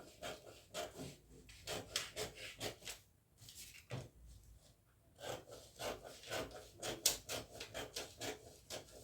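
Scissors cut out a fabric bodice in quick rhythmic bursts of crisp snips and rustling cloth, close and fairly quiet, with a brief pause midway before the cutting resumes.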